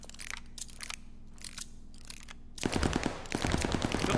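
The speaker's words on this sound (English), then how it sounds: "He's shooting at the other bomb." Gunfire in Call of Duty: Vanguard during a bomb match, a few sparse shots and then a dense burst of rapid automatic fire, loud and close.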